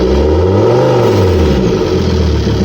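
A Volvo V70 with a 2.4 diesel engine and faulty boost pressure control revs hard in a loud, close throttle burst, its pitch rising then falling back, with no talking.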